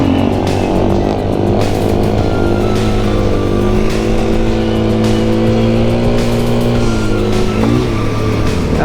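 A 2020 KTM 500 EXC-F dirt bike ridden on a street gives a loud, steady engine drone close to the mic, its pitch rising and falling gently with throttle and wind rushing throughout.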